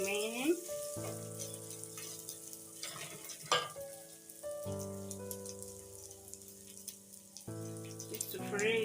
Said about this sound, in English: Then we stir a bit so that we can add the other amount remaining.